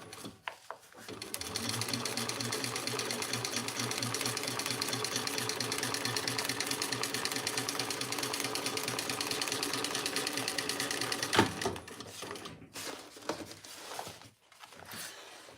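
A sewing machine top stitches a lining piece in one long, continuous run of rapid, close mechanical stitching, then stops. A few soft handling clicks follow.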